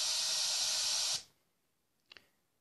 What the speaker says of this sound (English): and we also have a noise wave.